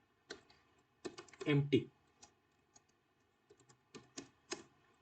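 Quiet computer keyboard typing of code, a few scattered clicks and one short burst of keystrokes, close and soft.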